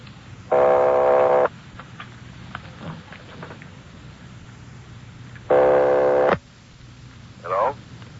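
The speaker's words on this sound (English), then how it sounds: "They're ringing the number, Sergeant." A 1940s telephone line ringing on a call placed from Los Angeles to Napa in an old-time radio crime drama, two long buzzing rings about five seconds apart, loud, with a voice speaking briefly between them.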